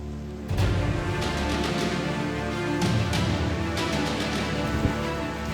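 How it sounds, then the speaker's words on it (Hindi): Heavy rain pours steadily during a monsoon trek on Harihar Fort in India, a dense, continuous hiss with no letup, loud and close throughout. "बारिश रुक ही नहीं रही है।"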